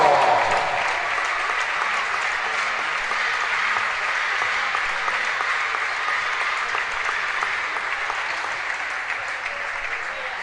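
Steady, sustained applause from a large crowd, a dense wash of clapping that holds at an even level throughout.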